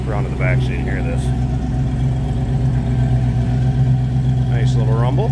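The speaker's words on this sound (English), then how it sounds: "Nice little rumble." Heard from the rear, a 1934 Dodge Cabriolet engine idles with a low, even rumble, steady and close throughout, while someone speaks briefly at the start and end.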